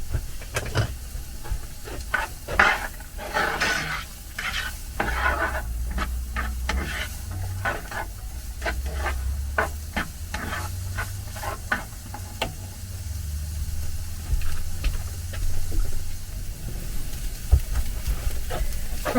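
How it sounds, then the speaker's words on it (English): One onion frying in a hot pan of melted fat, a steady sizzle running throughout with repeated sharp scraping and stirring strokes over it, close and fairly loud, no voices. "Fry one onion."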